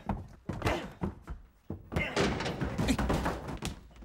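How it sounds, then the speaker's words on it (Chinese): A door is rammed open in a series of heavy thumps and thuds, a couple of separate blows followed by a louder, busier burst of impact and commotion. "我们把门撞开。"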